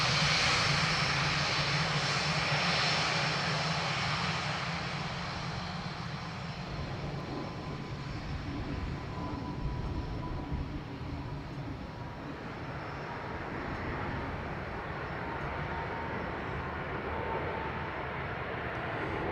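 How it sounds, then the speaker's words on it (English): Ryanair jet airliner arriving at Dublin Airport from Stansted, a broad engine roar that starts loud and slowly fades into a distant rumble. "Ryanair from Stansted."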